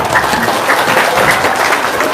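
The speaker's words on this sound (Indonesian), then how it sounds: "Tepuk tangan dong." An audience claps in applause, a dense, steady patter of many hands that holds at a moderate level for a couple of seconds, with no clear voices on top.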